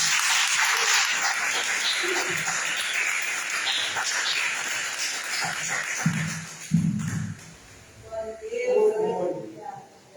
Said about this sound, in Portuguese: Vamos receber a palmas agradecendo a sua vida.